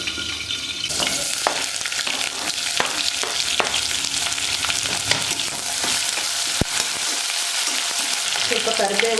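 Green chilies fry in hot oil in a pan with a loud, dense crackling sizzle and a few sharp pops and taps, easing toward quieter bubbling at the end.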